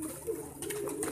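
Pigeons coo softly in a breeding cage, a low, faint, rounded cooing that repeats over a brief stretch with little else around.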